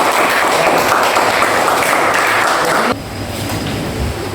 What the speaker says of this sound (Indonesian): Kasih tepuk tangan ya.